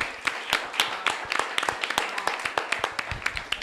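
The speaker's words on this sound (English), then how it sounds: "I want everybody to give a great round of applause" A scattered round of clapping from a modest audience at a wellness talk greets a speaker's support crew, with uneven claps overlapping and a murmur of voices beneath.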